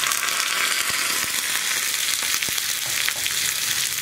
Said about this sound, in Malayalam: ഇനി ഉള്ളിയുടെ കളറൊന്ന് മാറി വരുന്നത് വരെ നമുക്കൊന്ന് ഇളക്കി കൊടുക്കാം